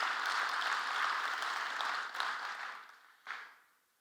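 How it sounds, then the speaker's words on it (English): An audience at a transportation summit applauds two officials, a soft, dense round of clapping that fades out, then a brief final burst before it dies away. "let's give another round of applause for Director Tavares and Secretary"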